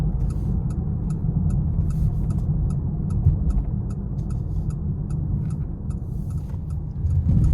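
A 2026 Nissan Rogue plug-in hybrid SL is driven in eco mode, heard from inside as a steady low cabin rumble with a faint, regular ticking running throughout.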